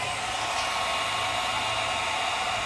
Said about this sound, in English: I'm going to fire up the heat gun here and finish this off.